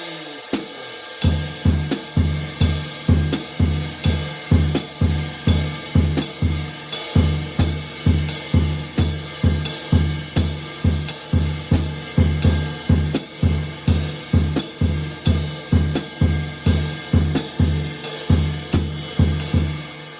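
Drum kit playing a straight swing-style pattern, with a snare triplet rhythm moved onto the kick drum: steady repeating low thumps in a loping triplet feel for about twenty seconds, close and alone with no talking.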